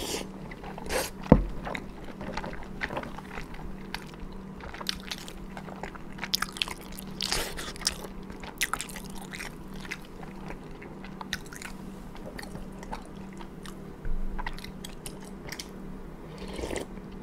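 Big dumplings in buckwheat noodle soup are chewed close to the mic, giving wet squishy bites, smacks and occasional crunchy clicks in an irregular rhythm, with no talking.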